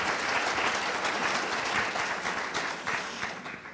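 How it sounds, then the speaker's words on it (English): Audience applause for panelists before a panel discussion, a full, even round of clapping that tapers off slightly toward the end, with no talking over it. "please give them a huge round of applause before we get started."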